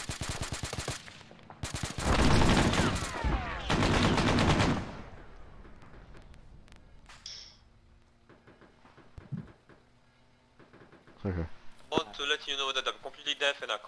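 Bursts of Arma 3 gunfire, including heavy machine-gun fire, crack loudly in quick volleys near the start, then thin out into scattered distant shots and clatter, with more rapid firing rising again near the end.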